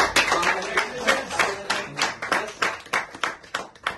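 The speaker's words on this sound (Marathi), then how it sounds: "जोरदार टाळ्या वाजवूया" An audience claps together after a call for congratulations at an event for medical students, giving a steady run of close, fairly loud hand claps.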